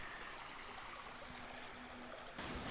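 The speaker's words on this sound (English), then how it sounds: "right past our campsite is the creek." A creek flowing right beside a tent campsite in the North Georgia woods, a steady quiet rushing trickle of water with no voices.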